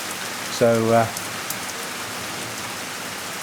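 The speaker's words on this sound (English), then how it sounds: "it's good to see some rain and hear these sounds again" Rain falls steadily outdoors on a dry grassy area, a soft continuous patter, briefly interrupted by a short spoken word near the start.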